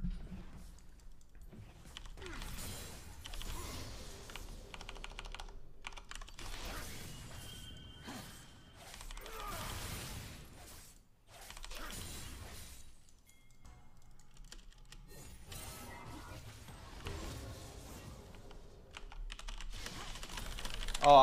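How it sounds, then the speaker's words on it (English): Rapid clattering keystrokes on a computer keyboard during a Yasuo League of Legends match, steady bursts of close typing that run the whole stretch with brief pauses and no talk. "Oh, I was typing."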